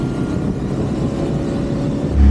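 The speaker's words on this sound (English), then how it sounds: "Let's take it out and take it for a drive." A 1966 MG MGB roadster drives along with a steady low engine drone and road rumble from inside the car, and the revs rise toward the end.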